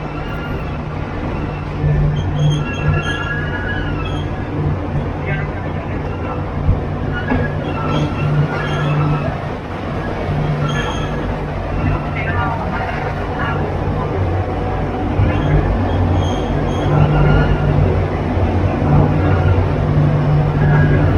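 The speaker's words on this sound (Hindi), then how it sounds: "ये सामने खड़ी है न्यू दिल्ली डिब्रूगढ़ राजधानी एक्सप्रेस" New Delhi–Dibrugarh Rajdhani Express standing at New Bongaigaon Junction, a steady rumbling train and station hum with a low engine drone throughout, voices talking over it.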